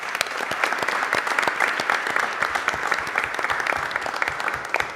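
Sustained round of applause from a committee meeting audience honoring graduating students, steady dense clapping with a few louder individual claps, continuous for the whole stretch.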